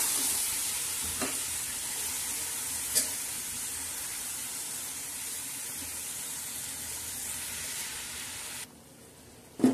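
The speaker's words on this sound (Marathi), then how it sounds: "आता शेंगा छान असं हलवून घेणार आहोत" Cluster beans (guar pods) stirred and fried in a pan after tomatoes, green chillies and garlic, giving a steady close sizzle with scraping stir sounds and a sharp clink near the end, then a brief drop to quiet.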